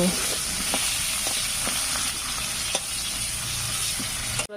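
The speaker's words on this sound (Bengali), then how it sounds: "কড়াইয়ের তেলের ভিতরে একটা পেঁয়াজ কুচি করে কেটে দিয়ে দিয়েছি, দিয়ে ভালো করে ভেজে নেব" Chopped onion frying in hot oil in a wok, a loud continuous sizzle and hiss with occasional clinks of stirring, close up and without speech.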